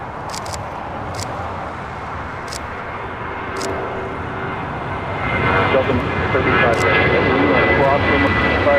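A jet airliner in Boston Bruins livery taking off at LAX, its engine roar loud and steady, then swelling into a heavier, brighter thrust from midway, with sharp clicks and a radio voice over it.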